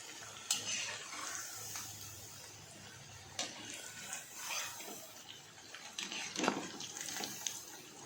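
Potato fingers being stirred in a frying pan of hot oil, with soft scraping and clinking against the pan over a steady low sizzle, a few sharper knocks standing out, no talking.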